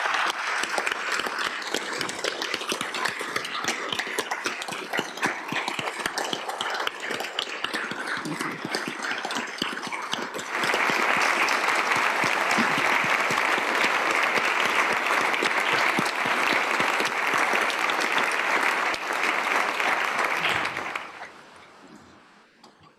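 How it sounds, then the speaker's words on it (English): A large audience at a South Dakota State of the State address applauds a rescue team, with sustained, dense clapping that swells to a louder peak midway, then fades out near the end. "Please give them a round of applause"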